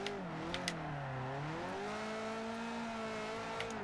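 A 1989 Toyota MR2 SC engine in Forza Motorsport 4 hums steadily at light throttle. Its pitch sags, then climbs and holds level, with a few faint ticks over the drone and no talk.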